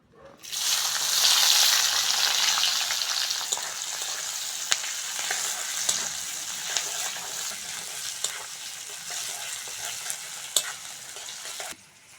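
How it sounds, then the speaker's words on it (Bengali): Onion and green chili hit leftover fish-frying oil with a loud burst of sizzle, then settle into a steady crackling fry broken by sharp spatula clinks and stirring scrapes. "পেঁয়াজ আর কাঁচা লঙ্কাটা ভালো করে ভেজে নেব"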